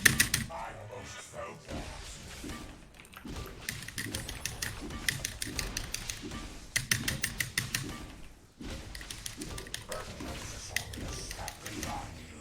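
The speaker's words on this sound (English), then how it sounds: "Whoever's smacking the keyboard" Rapid clacking bursts of someone hammering on a computer keyboard during a livestream, loud clustered keystrokes in several runs with brief gaps, while voices talk over and between them.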